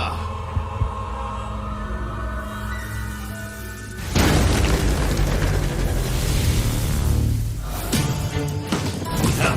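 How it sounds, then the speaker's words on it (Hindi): A loud, booming explosion that erupts suddenly midway, followed by a sustained rumbling roar that trails off. "धमाका।"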